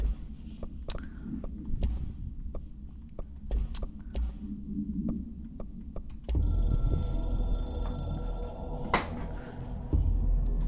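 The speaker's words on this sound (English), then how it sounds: "I can hear the hotline ringing in my dreams, constantly ringing." An old-style hotline telephone in the video game Control rings insistently, with sharp repeating bell strikes over a low ambient rumble, growing denser and louder in the second half.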